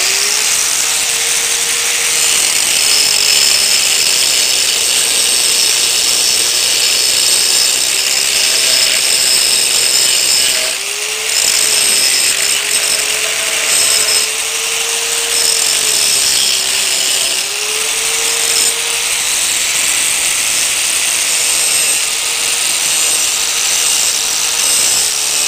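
A metal piece clamped in a vise is ground with a power grinder for a wind turbine rotor build, giving a loud continuous whine with a wavering motor pitch and brief dips as the tool is eased off.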